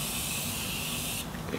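A makeup setting spray mists over a finished face in a steady hissing burst lasting about a second, close and fairly quiet, then stops, followed by a couple of faint clicks.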